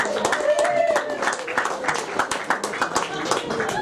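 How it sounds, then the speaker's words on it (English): A comedy club crowd claps for a comedian, with sharp, fairly close hand claps scattered under a talking voice throughout. "Give him a round of applause."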